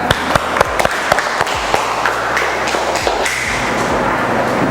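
Applause in a classroom during an automotive engineering teaching assessment, a small group clapping with sharp, uneven thumps and taps standing out close by.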